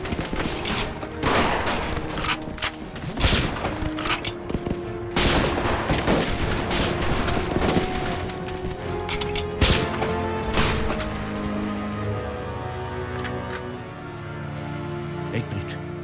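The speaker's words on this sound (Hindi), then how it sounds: "गोलियां चलाता ना मेरे भाई।" Gunfire in a battle scene between soldiers and Chinese troops, with rapid bursts and single sharp shots cracking in a dense fusillade over most of the stretch, echoing loudly before thinning out near the end.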